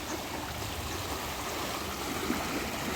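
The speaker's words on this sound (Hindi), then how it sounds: "माँ गंगा का शोर" Steady rushing of the Ganges river at Haridwar, a continuous broadband roar with no breaks, loud and close, no voices.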